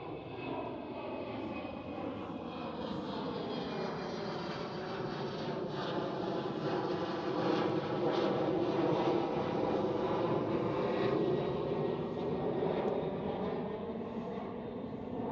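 A KLM Embraer E190 jet in SkyTeam livery passes at Amsterdam Schiphol, its engines giving a broad, steady roar with a shifting whine as the aircraft moves by at moderate distance, with no talking.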